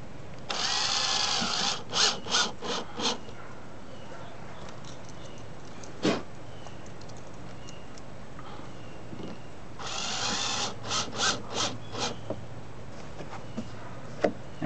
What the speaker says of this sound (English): So now we're ready to go ahead and screw this in.